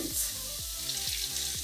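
Beef mince hitting a hot pan of garlic sofrito crackles in a brief, dense sizzle, with a few soft low thuds as the meat settles and is moved about.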